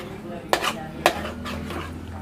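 A spoon stirs masala in a metal pan for gutti vankaya curry (stuffed brinjal), giving two sharp scraping clinks about half a second apart, then softer scrapes over a low steady cooking hum.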